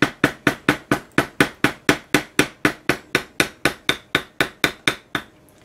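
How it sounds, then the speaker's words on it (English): Light hammer taps on a size B197 bevel stamp tooling leather for a sun mask, about two dozen crisp, evenly spaced strikes in a steady rhythm, close and clear with no talking. "And I'm not hammering very hard, I'm just tapping very lightly."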